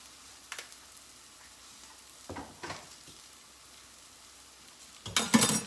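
Flour stirred into a frying mixture in a pan, with soft scattered scraping strokes and a faint sizzle, then a louder burst of stirring near the end, with no talk.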